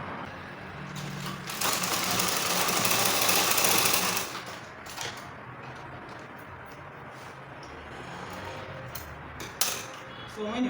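Sewing machine stitching to close the seam of a women's trouser, a steady mechanical run that swells louder early on before settling into lighter, intermittent stitching with handling noises.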